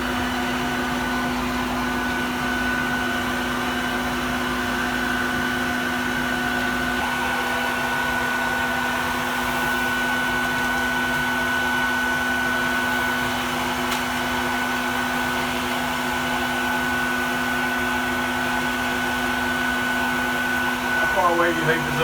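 Vacuum running continuously during a bee hive removal, sucking up bees with a steady whining drone and a constant hum that stays loud and even throughout, with brief handling noise near the end.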